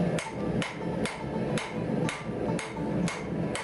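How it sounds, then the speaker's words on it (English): Hammer blows texture 5160 leaf spring steel for knife bar stock, landing as sharp metallic strikes at a steady rhythm of about two per second, close and clear with no talk. "you're hammering where the ricasso is going to be, where the top of the blade is going to be"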